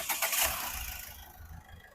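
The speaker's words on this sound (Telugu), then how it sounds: "సింగిల్ సెల్ఫ్లో ఇంజన్ స్టార్ట్ అవ్వడం జరుగుతుంది" A 2018 Ford EcoSport Titanium+ engine cranks from a push-button start and catches with a quick whirring start, then settles into a low, steady idle nearby.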